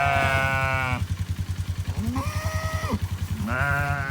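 Sheep bleating loudly and close, with several long wavering bleats from ewes and lambs that are fighting, over a steady rhythmic engine-like thudding.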